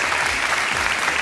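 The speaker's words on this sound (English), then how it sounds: "Round of applause." A crowd at a London audition event claps loudly and continuously in a dense, sustained burst of applause.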